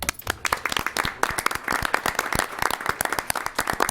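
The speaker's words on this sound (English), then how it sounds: "You get a round of applause." A room at a city council meeting breaks into clapping for a group of kids, with dense, steady handclaps from a modest crowd, fairly close and continuous with no talking over it.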